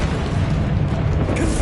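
A fiery Confringo spell blast erupts in Hogwarts Legacy gameplay, a loud, dense, rumbling boom that fills the whole short moment without a break.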